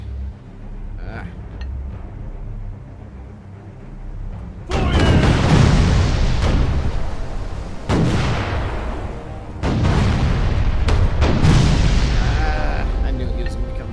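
Ship cannons fire in the naval combat game Furious Seas, with several loud, booming blasts in separate bursts, each followed by a long rumbling decay, over a low ambient hum.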